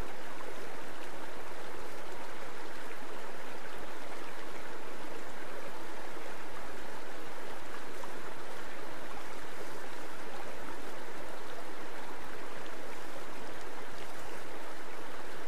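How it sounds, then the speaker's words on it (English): A shallow, fast stream runs over a coarse, rocky bed, its rippling surface turbulence making a loud, steady broadband rush that continues without a break and without any voices. "flows over coarse streambed particles that create mild to moderate surface turbulence"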